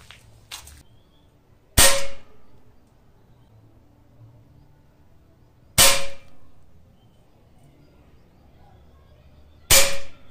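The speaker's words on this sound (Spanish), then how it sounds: "Diana reactiva. Lleva disparando a unos 20 metros." Three sharp metallic shots ring off a reactive target roughly 20 metres away, evenly spaced about four seconds apart, each a bright clang over quiet outdoor background with no talk.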